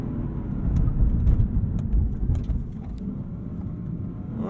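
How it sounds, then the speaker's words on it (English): A 2021 Lexus RC F Fuji with a V8 braking hard, heard as a steady low rumble of engine and road noise from inside the car, swelling slightly then easing, with no talk. "These brakes, let's hit them"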